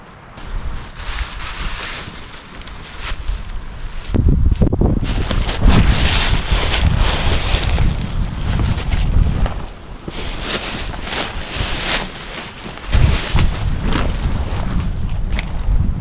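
Strong wind gusts buffet a campsite beside an old fireplace where a tarp is being staked down, loud rushing surges that swell and ease, with a heavy gust building partway through; no one speaks.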